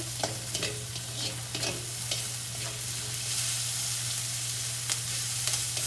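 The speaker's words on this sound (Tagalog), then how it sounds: "Another minute for the garlic." Garlic frying for goat kaldereta, with a continuous close sizzle under a low hum and irregular scrapes and clicks as it is stirred in the pan.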